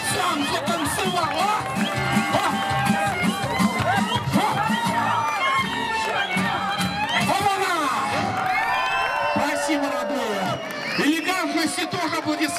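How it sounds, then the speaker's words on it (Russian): Audience at an outdoor park dance show cheers, whoops and shouts, with children's voices in a dense, continuous crowd roar that swells and briefly dips before rising again. "Аплодисменты."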